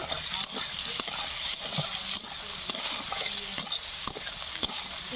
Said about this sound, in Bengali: তাহলে সয়াবিনটা ভাজা হোক